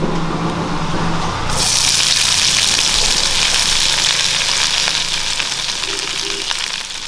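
Dried red chili and chopped onions fry in hot oil for chicken curry while being stirred, a loud, close, continuous hiss that swells sharply as the onions hit the pan, with a low hum beneath.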